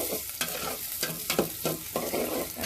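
Onions and green chilies being stirred and fried in a pan, a soft continuous sizzle broken by repeated scraping strokes of the spoon at an irregular rhythm, close and fairly quiet.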